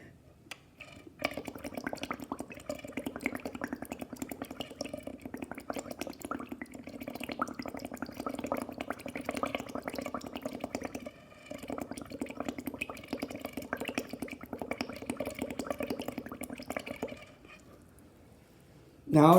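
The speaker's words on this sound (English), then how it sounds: "by blowing air, I will be adding carbon dioxide into the water" Air is blown into a container of tap water to add carbon dioxide, producing a steady, soft, continuous bubbling that lasts several seconds and then stops, followed by a short loud knock.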